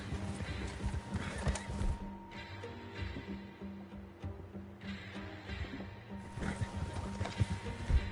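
Horse in the video game Red Dead Redemption II, neighing and whinnying with clip-clopping hooves over a steady game backdrop, moderately quiet, with faint speech in places.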